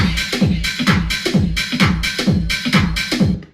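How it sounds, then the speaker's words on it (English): A drum loop sampled from an old record repeats a punchy kick, snare and hi-hat pattern about every half second, loud and close, with a slightly dusty, vintage tone and no voices. "is this drum loop I found from an old record"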